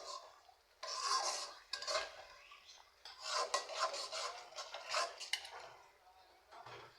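Masala spice paste stirred and fried in a cooking pot for khichuri and duck curry, giving irregular scraping and rasping strokes of a spoon against the pot, louder in bursts with short pauses between.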